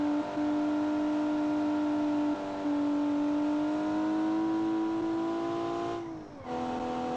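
A car engine in the video game BeamNG.drive hums steadily with rising pitch as it revs, then briefly drops and dips around a gear change before continuing, loud and close.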